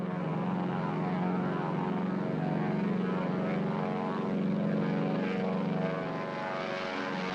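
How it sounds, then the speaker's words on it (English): A Douglas DC-3 airliner roars past on its big heavy-duty piston engines, a loud, steady propeller drone that holds for the whole stretch and eases slightly toward the end. "Comfortable roar of a big, heavy-duty piston engine"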